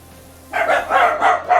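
Dogs barking at an Amazon delivery, a loud close run of four sharp barks in quick succession after a brief quiet moment.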